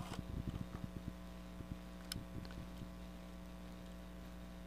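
A sewing machine works a blanket stitch around a photo on quilt fabric, giving short bursts of quiet rapid ticking needle strokes over a constant low motor hum, pausing between runs.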